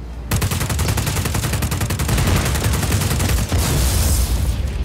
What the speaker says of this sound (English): And now I guess I shoot it in the guts.